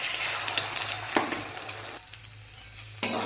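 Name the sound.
egg frying in a pan for egg chow mein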